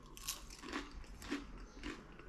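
Three crisp crunching bites into a Maltese lampuki fish pie's puff pastry, spaced about half a second apart, close and fairly quiet.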